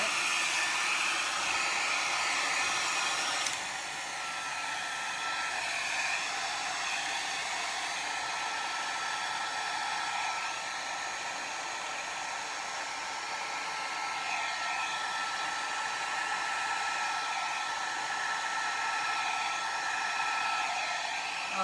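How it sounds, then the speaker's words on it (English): A hair dryer blows steadily over a Dutch resin pour, a close, continuous broadband whoosh running unbroken for over twenty seconds with a slight drop in loudness early on, no voices. "we're going to use the blow dryer to get some of this white"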